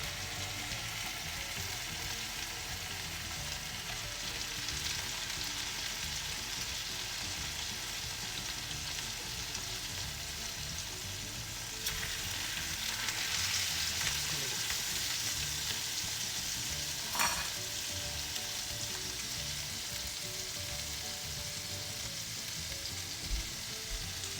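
Salmon fillet searing in a hot pan gives a steady, close sizzle and crackle that runs throughout with no talking, swelling slightly midway and broken by one brief sharp pop.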